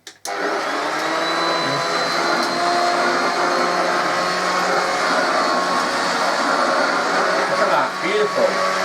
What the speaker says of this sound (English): Lovely quiet motor. Cleans the carpet nicely.